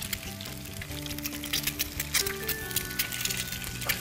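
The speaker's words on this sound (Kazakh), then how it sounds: "Көздік қуырамыз." Eggs frying sunny-side up in oil in a pan, a steady close sizzle with soft crackles and pops throughout, no voices.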